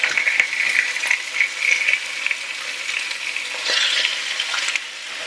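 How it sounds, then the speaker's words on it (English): Chicken pieces browning in an overly hot pan give a steady, loud sizzle and frying hiss, with occasional stirring and scraping clicks near the end. "The recipe had said to brown the chicken before putting it in the crock pot."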